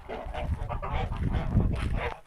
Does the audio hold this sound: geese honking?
yes